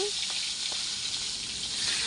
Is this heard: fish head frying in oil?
yes